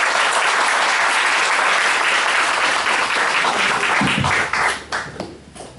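Audience at a university lecture hall breaks into sustained, dense applause welcoming a guest lecturer, steady and loud before thinning into scattered claps at the end.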